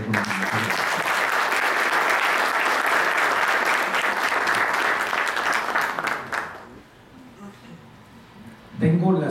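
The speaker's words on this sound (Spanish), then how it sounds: "quiero pedir un aplauso" Audience at a municipal comptroller's office report event in Manizales breaking into loud, dense applause that carries for about six seconds, then drops away to quiet before a voice resumes.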